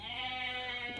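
Goats bleating in the strategy game Age of Mythology: Retold, a single close, nasal, wavering bleat lasting about a second, clear and alone.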